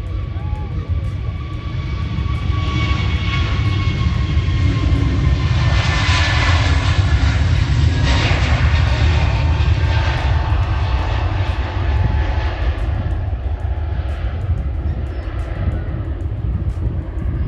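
Jet airliners take off at Manchester Airport with a loud, sustained engine roar that swells to a peak partway through, then holds a steady rumbling whine as the plane climbs away.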